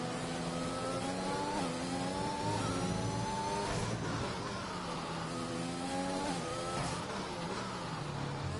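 Bentley race car engine heard from on board in a racing video game, rising and falling through repeated accelerations and gear changes, steady and fairly loud with no talk over it.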